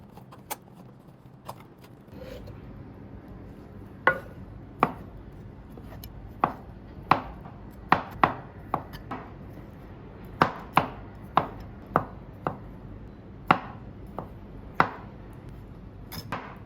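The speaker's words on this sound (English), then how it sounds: "Wash button mushroom and sliced." Button mushrooms sliced with a knife on a cutting board, a series of crisp, irregular chopping taps close up, spaced one or two seconds apart over a quiet background.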